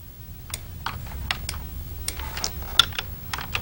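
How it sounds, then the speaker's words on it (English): Keys tapped on a computer keyboard during 3D modeling work, sparse and irregular single clicks, fairly quiet and close, over a low steady room hum. "Let's go ahead and bevel again, B on the keyboard."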